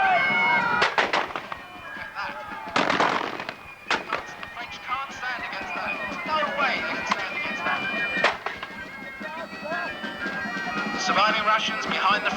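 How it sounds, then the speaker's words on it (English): Musket volleys crack out in a Napoleonic battle re-enactment at Tilbury Fort, a few sharp loud bursts followed by scattered, more distant shots over crowd and field noise. "They have a murderous firefight."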